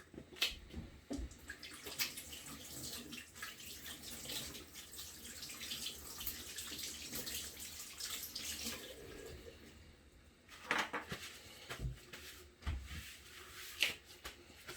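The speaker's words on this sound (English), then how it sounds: "I'm going to give my hands a good wash, and then I'll be back." Hands are washed under a running kitchen tap, a steady, faint stream of water with brief splashes and louder surges near the end, heard up close without any talking.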